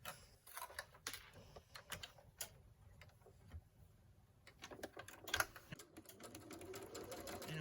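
A sewing machine stitches fabric at a quarter-inch seam for a reversible valance window topper, fast rattling needle bursts that start, pause and resume, close and fairly quiet with no talk.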